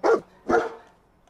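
Dogmeat, the dog companion in Fallout 4, lets out two sharp barks about half a second apart, close and clear, with no talk.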